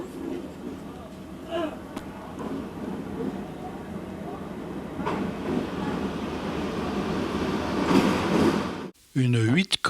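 Steam locomotive idling on a siding beside a train of loaded coal wagons on a railway, a steady low rumble and hiss with faint clanks, then a brief cutoff before a different voiced sound at the end.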